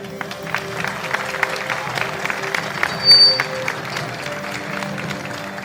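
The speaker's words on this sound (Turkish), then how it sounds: "Alkışlar" Sustained applause from an audience at a school graduation ceremony, dense clapping throughout, fairly loud and steady with a brief swell in the middle.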